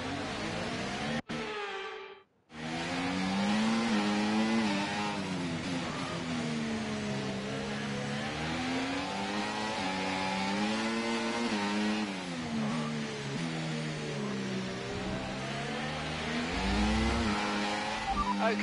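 A Formula 1 race car engine in the video game F1 24 revs loudly and continuously with wavering pitch for nearly the whole stretch, after a brief dropout near the start.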